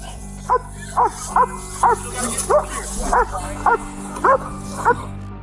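Police dog barking during an arrest, eight loud, evenly spaced barks close by over a low steady hum, with some background commotion.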